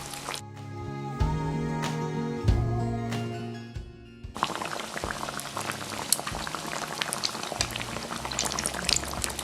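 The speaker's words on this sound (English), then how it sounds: "Place the patty in hot oil." A chicken patty for a homemade McChicken deep-fries in hot oil. After a few seconds of tonal sound, the oil breaks into loud, continuous bubbling and crackling close by.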